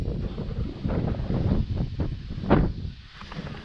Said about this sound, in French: il y a beaucoup trop de vent, c'est beaucoup trop pénible